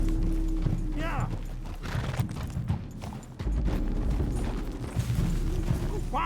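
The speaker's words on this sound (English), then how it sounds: "Get a hold of that horse, Mr. Morgan." Horse hooves pound in a rapid gallop in the video game Red Dead Redemption 2, loud and near, with a horse whinny and a person's shouts breaking in over the clatter.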